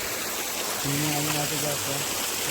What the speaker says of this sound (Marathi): पाण्याचा फ्लो जास्तच आहे